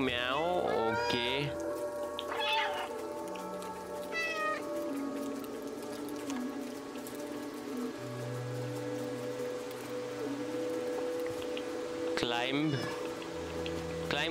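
A cat meows repeatedly in the video game Stray, the high whining calls recurring over steady rain-like ambience and a low game soundtrack.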